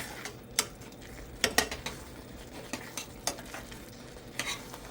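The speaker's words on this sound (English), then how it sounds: "Just keep stirring" Stuffing is stirred in a hot pan over medium heat, with a faint steady sizzle under scattered scraping and clinking of a utensil against the pan, a few sharper knocks standing out.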